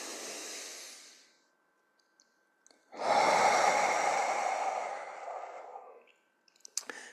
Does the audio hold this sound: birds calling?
no